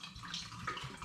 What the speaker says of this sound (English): I'm going to pour some into my hydrometer tube.